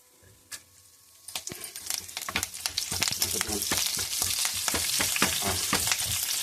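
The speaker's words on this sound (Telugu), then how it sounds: "పోపు వేస్తున్నారు" Mustard seeds and spices for a tempering crackle in hot oil for a tomato and green chilli chutney. Sharp pops start sparse, then build into a dense, loud, steady sizzle.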